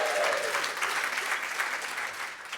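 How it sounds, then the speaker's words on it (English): Audience applause with some cheering fills a welcome session at a family weekend event, a steady dense clatter of many hands that holds loud throughout without a break. "they can hear you if you make tons of noise to welcome everybody who's at home."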